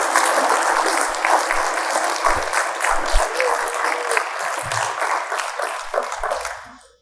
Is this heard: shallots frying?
no